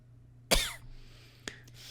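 A person coughs once sharply and close, followed a second later by a shorter, softer cough or throat-clearing in a quiet room.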